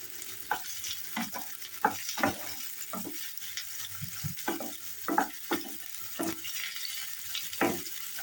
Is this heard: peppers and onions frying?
yes